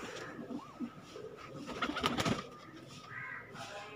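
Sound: Teddy pigeons cooing in a loft

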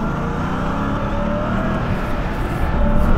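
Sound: RAM TRX truck engine revving in a rally racing video game

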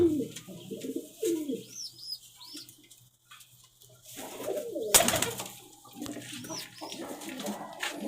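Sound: pigeons cooing in loft

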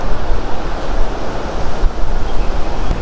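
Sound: river flowing below the temple

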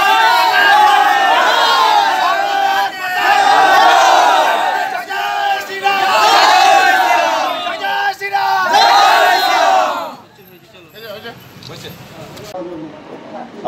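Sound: crowd chanting political slogans

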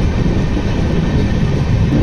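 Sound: LTT Superfast Express train running into Lonavala ghat

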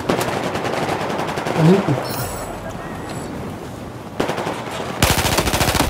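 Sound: machine gun fire in the video game Battlefield 4

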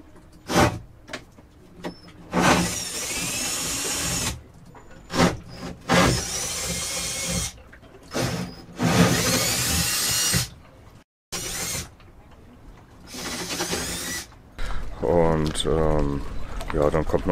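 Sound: drilling holes in boat hull

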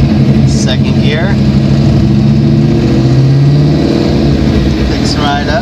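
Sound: car with TMP Carbs venturiless carburetor accelerating in second gear

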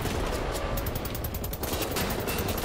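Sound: enemy gunfire in video game Wolfenstein The New Order

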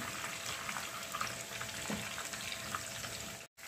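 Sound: boneless chicken pieces frying in oil

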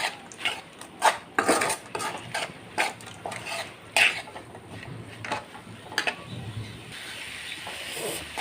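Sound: mixing prawns with masala in a pan

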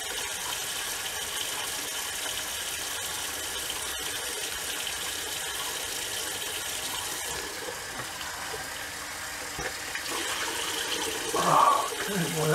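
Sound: tap water running, wetting a shaving rag

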